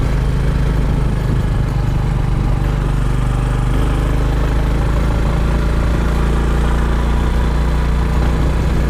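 A crossover motorcycle engine runs continuously on a mountain road, a loud, steady low drone with a brief change in tone partway through and no voices over it.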